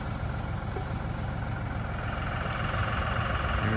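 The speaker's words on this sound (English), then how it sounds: "Forks on the tractor." Tractor engine idling outdoors, a steady low rumble that holds even and loud throughout with no changes in speed.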